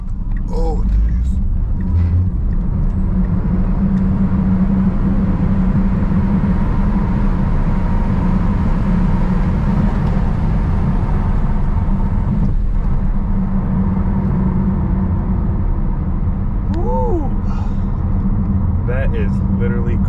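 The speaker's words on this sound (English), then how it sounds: "we're gonna try to do a quarter-mile test here" Tesla Model S Plaid, a 2024 electric sedan, accelerating hard through a quarter-mile run: a steady loud roar of road and wind noise with rising whine tones near the end, while people talk over it.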